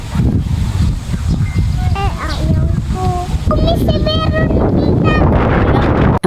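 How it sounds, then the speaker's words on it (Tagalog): Strong wind buffeting the microphone by the sea at a beach cove, a constant loud low rumble. Children's and adults' voices sound over it, along with a few high whistly tones. "Ang lakas ng hangin dito sa gilid ng dagat guys, very refreshing."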